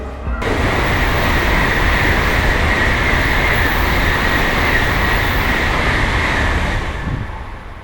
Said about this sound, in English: I'm gonna go look at the Shinkansen's take off for a little bit.